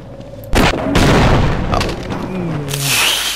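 A sudden loud boom bursts out in the video game Half-Life and rumbles on for a few seconds, with crackling debris and a rising whoosh at the end.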